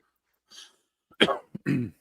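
A person coughs into a microphone during a live online discussion, a faint breath followed by two or three harsh, close coughs and a throat clear, with no talking.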